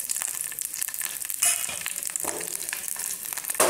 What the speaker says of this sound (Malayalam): പിന്നെ കടുകും ഉണക്കമുളകുമാണ് ഇടുന്നത്.